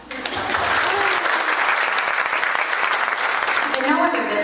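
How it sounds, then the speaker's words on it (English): Audience applause at a team training event, steady dense clapping filling the room from start to finish, with a voice briefly audible beneath it. "go ahead and applaud"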